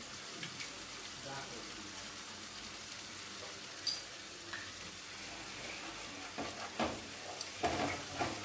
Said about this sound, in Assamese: কাজু আৰু মগজখিনি অকণমান ভালকৈ ভাজি লওঁ।